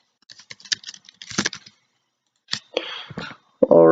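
Computer keyboard typing in bursts of quick clicky keystrokes, close and fairly loud, with pauses between flurries and a louder clatter at the end.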